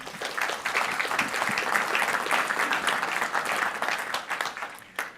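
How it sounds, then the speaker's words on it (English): An audience applauds during a business talk on agile teams, steady clapping from a crowd that stays fairly level, then quickly fades out. "Round of applause for the past team."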